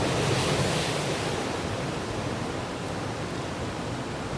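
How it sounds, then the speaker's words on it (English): Steady broadband wash of sea waves breaking on a shore, a constant close rumble with wind noise buffeting the microphone, no voices. "I'm just relaxing, looking out to the sea."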